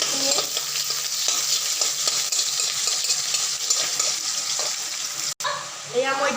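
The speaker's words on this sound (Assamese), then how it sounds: "এয়া পিঁয়াজখিনি মই অলপমান ৰঙচুৱা কৰি দিছোঁ। অলপমান ভাজি লওঁ।" Sliced onions sizzle in hot oil in a home kitchen pan, a steady frying hiss broken by repeated sharp scrapes and clinks of stirring, with a brief break near the end.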